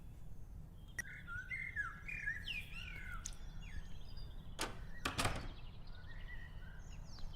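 Chirping bird calls from the video game Deltarune, a run of short bright rising and falling tweets over a steady low hum, with a few sharp clicks and a louder burst near the end.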